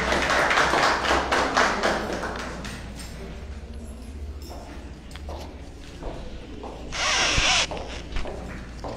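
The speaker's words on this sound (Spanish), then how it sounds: "Fuertes los aplausos para recibir a nuestra reina saliente." Scattered clapping from a crowd at a queen's coronation ceremony in Urdaneta, a patter of many hands that rises again toward the end.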